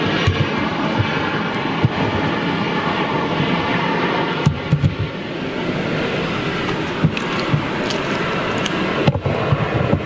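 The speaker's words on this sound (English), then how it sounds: "It's this Delta triple coming out." A Delta Boeing 777 jet departs with a loud, steady engine roar that fills the whole span, close and continuous, with no talk.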